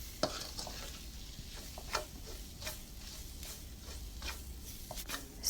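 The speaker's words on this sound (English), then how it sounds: "We have to mix well the ingredients and the spices at this point." Spices stirred into frying chicken curry, a faint sizzle beneath intermittent scrapes and taps of a spoon against the pan at an irregular pace.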